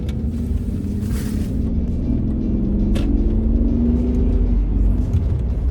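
A high-mileage 2001 BMW E38 with a V12 engine rumbles steadily and close, its deep engine note building gradually as it pulls away under acceleration.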